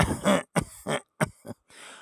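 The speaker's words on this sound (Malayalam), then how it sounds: "ആ സമയത്ത് ഇല്ലാത്ത ചുമയ്ക്കാൻ തുടങ്ങും" An elderly person's feigned coughing, a run of short, dry, forced coughs and throat-clearing bursts separated by brief silences, close and fairly loud.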